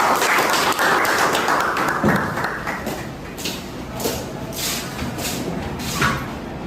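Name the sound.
audience applause welcoming a speaker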